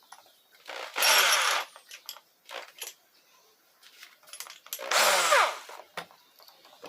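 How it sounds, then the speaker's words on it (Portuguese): An electric drill fitted with a bit, which earlier made a loud hammering racket outside hammer mode, runs in two strong bursts of drilling with shorter whirs and knocks between them, alone in the room. "Mas parece que aquele problema de fazer aquele barulhão pra furar na posição de furar acabou."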